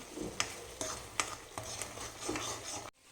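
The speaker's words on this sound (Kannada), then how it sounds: "ಹೀಗೆ ನೋಡಿ ಎಣ್ಣೆ ಬಿಟ್ಕೊಳ್ಳೋ ಹಾಗೆ ಹುರಿಬೇಕು ಟೊಮೊಟೊವನ್ನು" Tomato puree with a little salt frying in oil for chana masala, a close steady sizzle punctuated by regular spoon scrapes and stirring clicks, ending abruptly.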